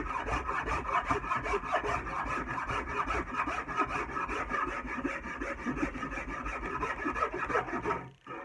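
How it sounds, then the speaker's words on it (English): Steady rasping of a wood rasp shaping a wooden handle, smoothing out tear-out dug in against the grain; continuous close scraping strokes in quick rhythm for about eight seconds, then stopping. "when you rasp out any of those digs that you took out when you went against the grain"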